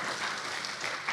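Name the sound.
applause from the audience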